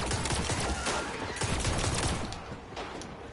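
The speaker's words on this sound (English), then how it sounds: "Hey, somebody up here is shooting at you." Enemy gunfire rattles toward the player in the shooter Destiny, a dense, continuous fusillade of rapid overlapping shots, loud and busy for the whole stretch with no pause.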